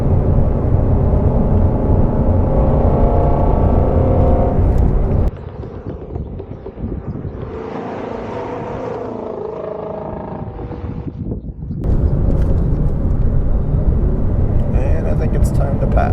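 A Shelby GT350R Mustang's flat-plane-crank V8 revs to 8,200 rpm, roaring loudly, drops to a lower drone for several seconds, then surges back to a screaming wail.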